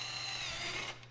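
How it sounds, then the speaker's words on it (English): A power drill bores a hole for a Bison Gear table mount on an FJ Cruiser, one short steady whine close up that winds down at the end. "drill the hole in this next one on each side"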